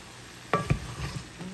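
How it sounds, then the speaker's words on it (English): Broccoli, red potatoes and garlic stir-frying in a pan, with a couple of sharp stirring scrapes and a soft sizzle underneath, brief and fairly quiet. "Yeah, I'm stir frying it."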